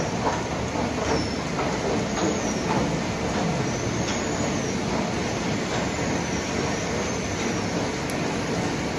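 A metro train at Châtelet station in Paris rumbles steadily and loudly with clattering wheels and faint squeals throughout, a continuous nearby rail roar with no talk.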